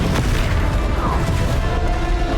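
A Confringo blasting spell goes off during a final boss fight in Hogwarts Legacy, a dense, booming burst of magical explosions crackling continuously over the full span.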